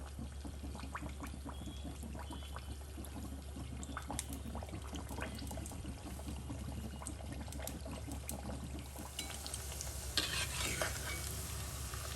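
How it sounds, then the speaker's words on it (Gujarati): Puri frying in hot oil in a pan over medium flame, with a steady close sizzle and bubbling throughout, plus occasional stirring and flipping clatter and a brighter burst of sizzle near the end. "પૂરીને બેથી ત્રણ વાર ફ્લિપ કરતા રહેશું જેથી એક બાજુ ગોલ્ડનમાં થઈ જાય બંને બાજુ એને ગોલ્ડન બ્રાઉન થવા દેવાની છે"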